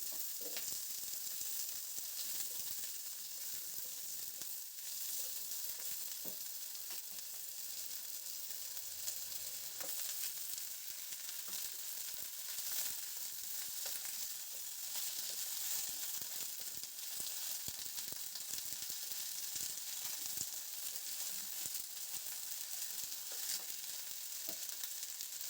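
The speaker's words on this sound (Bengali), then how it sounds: "এবার এখানে আমি আলু আর ব্রোকলিগুলো দিয়ে দেব।" Potatoes and broccoli fry in a pan with green chillies and whole spices, a steady, dense sizzle with crackling pops running unbroken throughout, close and fairly loud, with no voices.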